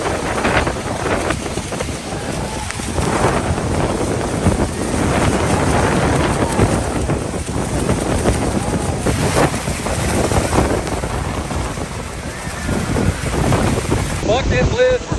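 Niagara Falls in Canada, a steady broadband roar of falling water mixed with gusty wind buffeting the microphone, loud and continuous throughout with no clear speech.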